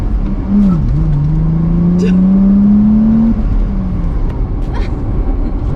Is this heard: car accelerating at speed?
yes